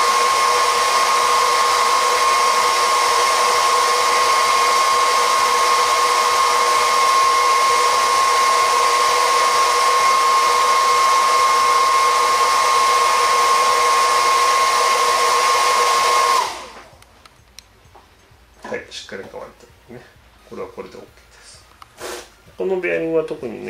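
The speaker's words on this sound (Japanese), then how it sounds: "ドライヤーでしっかりと乾かしてもらうと、" A hair dryer blows steadily on the bearings of a Shimano Calcutta Conquest fishing reel during an overhaul, a loud even whine for about sixteen seconds before switching off, followed by light handling clicks and rustles.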